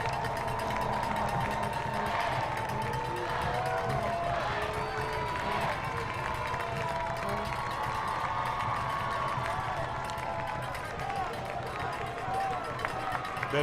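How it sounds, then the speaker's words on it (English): Football stadium crowd at a high school game against Saline, roaring and cheering steadily to spur on the defense, a dense continuous wall of noise with voices mixed in. "Crowd's getting excited, trying to spur on the defense to get a stop here."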